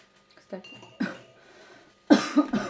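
A person coughing indoors, several short harsh bursts spaced irregularly, with a louder double cough near the end, close to the listener.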